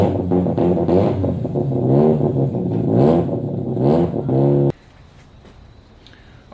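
A Mazda RX-7 FD rotary engine revs repeatedly, rising and falling in pitch through several loud pulls, then cuts off abruptly to near quiet with faint clicks.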